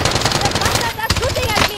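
Rapid gunfire aimed at the player in a shooter video game, short bursts of crackling shots mixed in with excited voices talking over the action.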